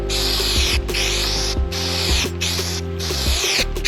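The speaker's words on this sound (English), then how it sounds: "You spray this stuff on both sides, let it dry, and get tacky" Loud hissing bursts of spray adhesive from an aerosol can, several short sprays in quick succession, close up with no talking, during a Ford Transit van headliner install.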